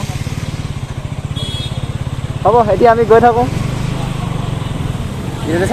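A motorcycle ridden through Duliajan town in Assam gives a close, steady engine throb throughout, with people talking over it.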